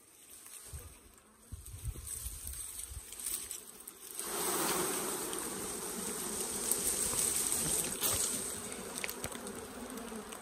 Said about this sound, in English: and I'll shake the bees in.